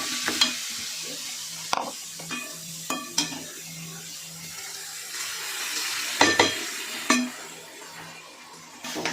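A spoon scraping and stirring dhodka (ridge gourd) vegetable in a sizzling pan, several distinct clanking strokes against the metal over a steady low fry, close and moderately loud with no talking.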